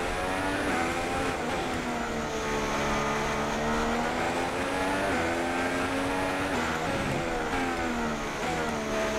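Formula 1 car from the racing game F1 2016 on the Monaco Grand Prix street circuit, engine droning loud and steady throughout with rising and falling pitch as it shifts and revs, with no talk.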